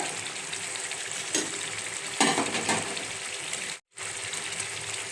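Four green chilies hiss into hot oil in a frying pan for chicken kosha, a steady loud sizzle with a few stirring scrapes and surges, broken by a brief cut near the end.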